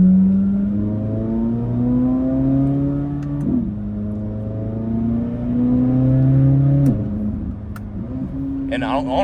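Corvette C8 Z06 cruising at night, its engine a steady, loud harmonic drone that climbs through each gear and dips sharply at shifts around three and seven seconds, heard from inside the cabin with faint clicks near the end.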